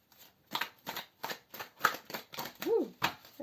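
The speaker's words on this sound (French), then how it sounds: "je mélange un peu les cartes" Tarot cards being shuffled by hand in quick riffling bursts, about eight crisp flutters in a steady rhythm, close and clear with no talking.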